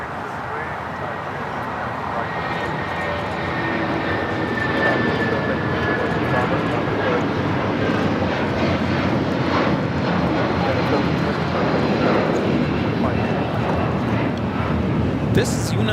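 A United Airlines Boeing 757-200 departs Los Angeles LAX for Newark, its jet engines roaring loud and continuous, swelling slightly as the aircraft climbs away.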